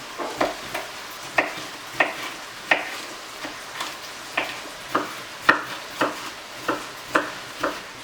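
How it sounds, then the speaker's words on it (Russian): A knife chops a sweet red bell pepper into cubes on a cutting board, with about a dozen crisp, evenly spaced thuds close by and no talk. "И также нарезаем кубиком."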